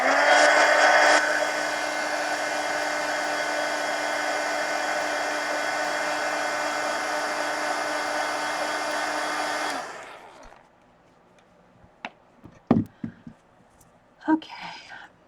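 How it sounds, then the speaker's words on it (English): A heat gun blows steadily and loudly for about ten seconds while drying ink on a coloring page, then cuts off, leaving quiet handling noises and a few soft taps. "let me hit it with the heat gun first because that'll smear"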